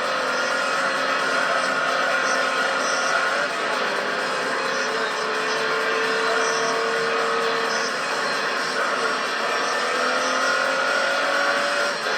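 Steady engine drone of a car driven in the racing video game Gran Turismo 3, with a continuous hum and slight pitch shifts as it cruises, loud and unbroken throughout.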